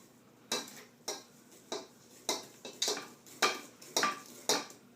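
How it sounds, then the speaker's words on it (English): Cake batter is mixed in a bowl with a utensil, a series of about ten regular scraping strokes and soft knocks, each stroke a short swish, quiet and close with no voices. "And then just mix these together."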